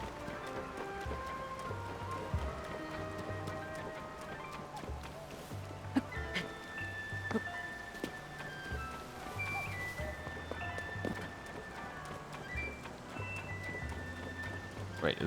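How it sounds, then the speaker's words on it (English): Steady rain falling over a town in a Zelda video game, a soft continuous patter heard over game music, with occasional clip-clop-like taps and small sound effects. "is it always raining over here?"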